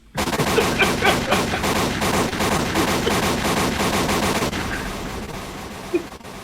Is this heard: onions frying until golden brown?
no